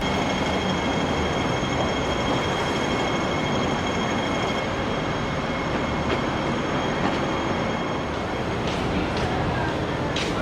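Hong Kong Ding Ding tram running along city streets, a continuous loud rumble and rattle of wheels on rails with faint metallic squeals, a steady ride-along noise without pauses.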